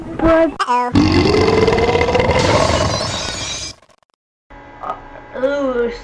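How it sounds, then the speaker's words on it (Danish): A long, loud, rasping burp rises in pitch for about three seconds, then breaks off into silence, with a voice speaking briefly before and after. "Slem bøvs"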